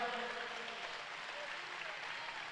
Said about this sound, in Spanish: Denle fuerte el aplauso a Él.